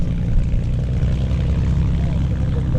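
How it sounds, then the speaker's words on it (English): A propeller aeroplane flies at an airshow with a steady, loud drone of engine and airscrew that stays constant throughout, with no speech over it. "thoroughly enjoyed the sound and the sights of that aeroplane."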